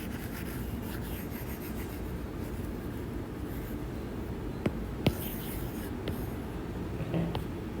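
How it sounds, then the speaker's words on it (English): An eraser rubbing across a classroom board, producing a steady, soft scrubbing that runs nearly throughout at close range, with a couple of sharp taps partway through and no talking. "I think we can erase this one"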